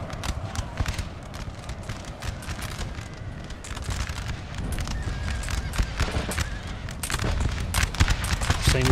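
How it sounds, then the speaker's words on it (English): Musket volleys and scattered gunfire ring out in a Napoleon Total War battle, dense and continuous over horses and the clatter of cavalry, growing louder toward the end. "Excellent volley here into the light horse."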